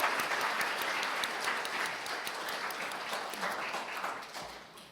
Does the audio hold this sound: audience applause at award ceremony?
yes